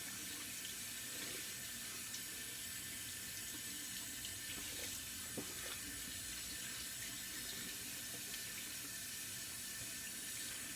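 Running tap water splashing steadily over a shaving brush being rinsed at a sink, a constant faint hiss with a few soft knocks partway through.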